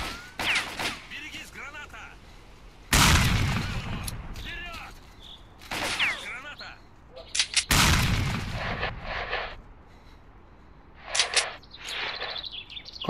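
Loud grenade blasts in the S.T.A.L.K.E.R. Clear Sky video game: two heavy, sharp explosions with rumbling tails, set among scattered gunfire cracks and chirping birds.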